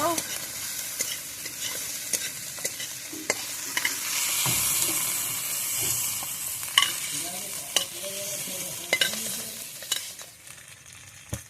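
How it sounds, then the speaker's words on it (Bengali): Prawns sizzle in a wok with a continuous frying hiss, broken by sharp spatula scrapes and stirring clatter that come close and at irregular intervals. No one speaks. "চিংড়ি মাছগুলো ভাজা হয়ে গেছে এবারে আমি নামিয়ে নেব"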